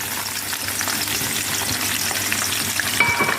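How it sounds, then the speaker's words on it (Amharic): Sliced and finely chopped onion frying in hot oil gives a loud, steady, close sizzle that hisses without pause, with a few small pops near the end and no talking. "ዘይት ሽንኩርቱን እጠብሰዋለሁ"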